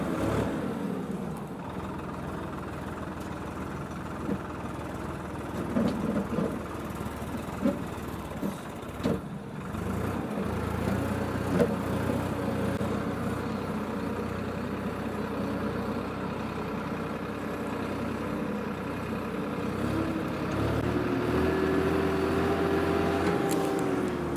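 A tractor engine runs steadily on a farm, a continuous low rumble with a few bumps and knocks, moderately loud and close throughout, with no talking.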